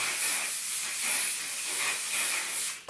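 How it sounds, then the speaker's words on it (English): Hairspray hisses from an aerosol can in several short, close bursts, a soft breathy spray that swells and fades three or four times. "I literally sprayed more hairspray"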